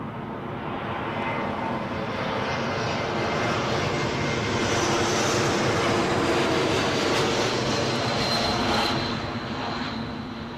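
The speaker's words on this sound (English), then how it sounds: "this is actually the first Embraer of the show of any stripe" A Helvetic Airways Embraer jet moves at London Heathrow airport, its engines giving a broad steady roar that swells slightly and then eases, moderately distant, with no voices.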